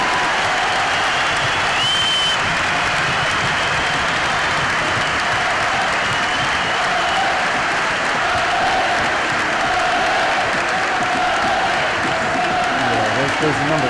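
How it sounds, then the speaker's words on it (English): A crowd applauds a runner who has just finished 36 back-to-back marathons of at least 40 miles a day for Cancer Research UK. The steady, dense clapping runs loud and continuous throughout, with some cheering mixed in. "Round of applause for this guy"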